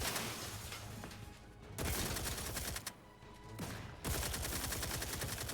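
Heavy video-game gunfire from a big weapon, loud sustained bursts of shots broken by brief gaps, filling the clip without talk.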